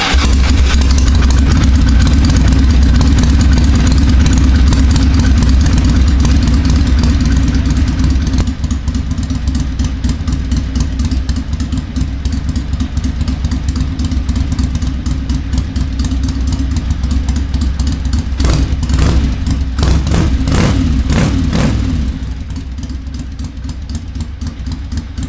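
Harley-Davidson Ironhead Sportster motorcycle engine running loud and close, a steady rough idle punctuated by a few sharp throttle blips and revs before settling back down.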